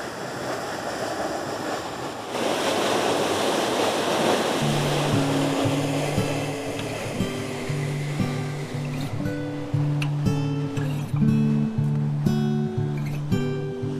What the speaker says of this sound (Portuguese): E aqui nós vemos as águas descendo aqui, ó, pela comporta que descem para o Riacho Seco.